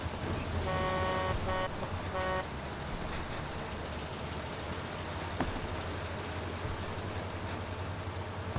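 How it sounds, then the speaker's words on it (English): A vehicle horn in the wartime game Hell Let Loose sounds in a few short toots near the start, clear and fairly close, then fades into a quiet rumbling engine-like background. "Thankfully I heard my horn because I would have run him over."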